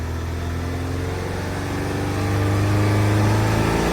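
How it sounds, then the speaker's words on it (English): A Saturn Sky engine with an intermittent overheating fault revs steadily, the idle-like drone rising and holding louder for several seconds with no talk over it. "I'm gonna rev up the engine again"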